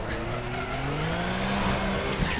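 A Group C race car in the RaceRoom sim, its engine revving steadily and climbing in pitch while the tyres hiss and squeal under power on corner exit, loud and continuous.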